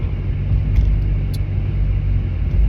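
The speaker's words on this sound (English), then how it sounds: "So my car is just louder than normal" A car idling with its muffler removed, a loud, steady low rumble close by with no talk.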